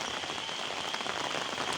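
Steady rain pattering on a surface beside a filling stream, a dense continuous patter of drops with no voices, close and even throughout.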